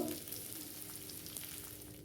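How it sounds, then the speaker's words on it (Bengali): Crushed garlic and green chillies with nigella seeds fry in oil, a faint, steady sizzle with a few soft stirring touches, heard close but at low volume. "এবার এগুলো আমি ভালো করে ভেজে নেব।"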